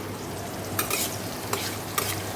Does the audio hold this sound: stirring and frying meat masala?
yes